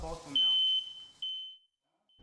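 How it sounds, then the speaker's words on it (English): A photoelectric smoke alarm sounds during a fire test: two loud, piercing, steady high beeps, the second fading out. Speech is heard just before the alarm starts. "After 35 minutes, the photoelectric alarm goes off too."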